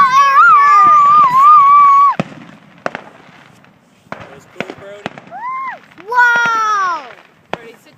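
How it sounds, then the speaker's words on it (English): Fireworks bursting at an outdoor display in Dayton, Indiana, a few sharp separate cracks and pops at mid distance, heard among loud excited shouting and cheering from children and adults. "Those are awesome fireworks."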